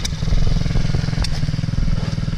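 An MRF 80cc motorbike engine revs close by with a loud, buzzing, throttled drone and a rapid pulsing rhythm that holds steady across a couple of seconds.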